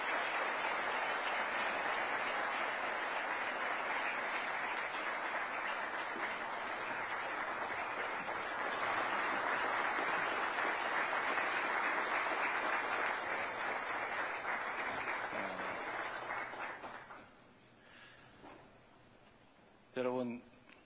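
Audience applause welcomes the South Korean president to the podium for a foreign policy speech at a US think tank, a long steady roar of clapping that fades near the end before a short burst of speech.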